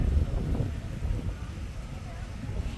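Wind blows outdoors under a cloudy, overcast sky as a storm threatens, making a steady low rumbling buffet against the microphone for the whole stretch, fairly loud and continuous.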